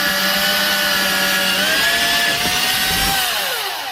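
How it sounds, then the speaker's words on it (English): A power drill boring a hole through the baseboard of a 00 gauge model railway layout, a loud steady whine that holds close and continuous before dipping and winding down at the end. "I'm going to drill a hole through there."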